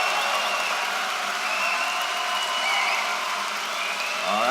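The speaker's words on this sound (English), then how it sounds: "What's disturbing is that many of the same people were clapping." An audience at a live debate breaks into sustained, dense applause, loud and steady throughout with no voices over it.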